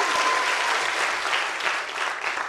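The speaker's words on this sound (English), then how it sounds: "A round of applause for our volunteer." Audience at a science lecture on life beyond Earth applauding a volunteer, a sustained, even burst of clapping filling the whole clip at moderate loudness.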